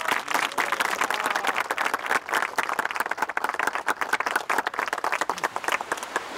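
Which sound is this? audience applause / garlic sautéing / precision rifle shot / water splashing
audience applause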